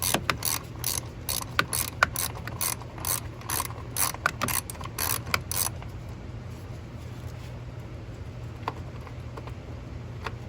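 A socket wrench ratchets on a car battery bolt on a 2018 Dodge Ram 1500, quick rapid clicking bursts for several seconds, close and clear, then stopping to near quiet.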